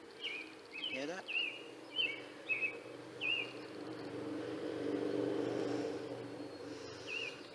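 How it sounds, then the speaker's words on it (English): Birds sing outdoors in a series of short, bright chirps and whistled phrases that repeat every second or so, set against a steady low hum of nearby traffic. Nobody speaks. "you can hear the birds singing"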